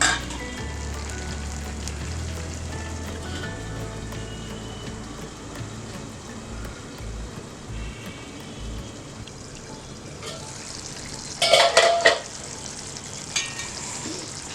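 Spleen masala simmering in a covered pan on the stove, giving a steady close sizzle and bubbling throughout, with a few sharper hissing bursts near the end.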